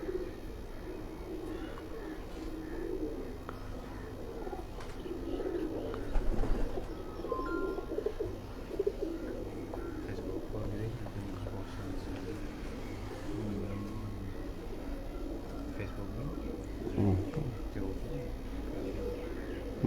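Pigeons of a Kasuri bloodline kept on a rooftop coo softly and repeatedly against a steady hum of distant traffic, the calls low and muffled rather than prominent.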